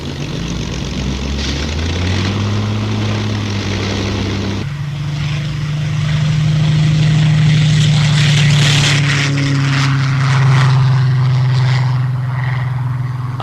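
Propeller-driven RAF training aircraft with dual controls in flight around 1950, a steady loud droning engine hum with a shifting pitch throughout.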